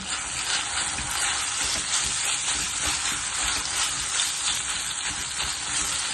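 Corn mash roasting in a pan, a steady close sizzle and crackle of frying that runs without a break, with faint stirring scrapes and no voices.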